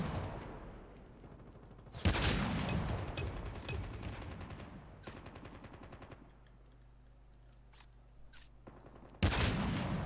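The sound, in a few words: gunfire in the video game Call of Duty Mobile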